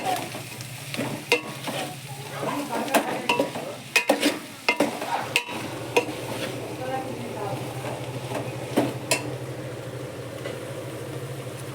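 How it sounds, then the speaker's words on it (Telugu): Mango and egg curry for a Telangana-style pulusu fries in oil, a low sizzle under repeated clattering strokes of a spoon stirring against the pan, with a steady hum beneath. "ఇంకా కొంచెంసేపు దీన్ని మనం వేగనిద్దాం ఆయిల్లో."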